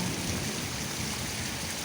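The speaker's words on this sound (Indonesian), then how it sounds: "Gemericik hujan itu sungguh menenangkan hati." Steady rain pours down outdoors during a thunderstorm, a dense, even hiss of falling drops that stays constant and fairly close throughout, with no voices.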